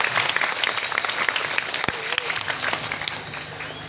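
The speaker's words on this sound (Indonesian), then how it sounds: "Tepuk tangan buat semua." An audience at an Isra Mi'raj gathering at an Islamic boarding school claps together, a dense, steady wash of applause that holds evenly for a few seconds with a faint voice underneath.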